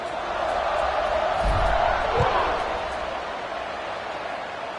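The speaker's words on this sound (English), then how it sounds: "this crowd is feeling themselves after that last drive" A large crowd roars through a college football game between Georgia Tech and Florida State as the kickoff unit lines up. The dense cheering is loud and sustained, swelling briefly in the middle, with faint talk mixed in.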